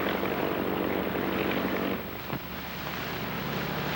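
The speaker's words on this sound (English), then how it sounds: "I wish he'd be more careful with that plane." A Curtiss Jr. light airplane's engine drones loudly and steadily as it flies a low stunt pass, the sound dipping briefly as the plane passes, with wind buffeting the microphone.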